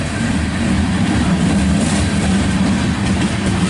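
A loaded CSX coal train grinds slowly uphill near Germantown, a steady close rumble of heavy engine and rolling cars with faint clatter, continuous throughout with no voices.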